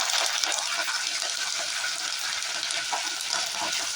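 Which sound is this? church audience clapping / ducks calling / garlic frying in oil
garlic frying in oil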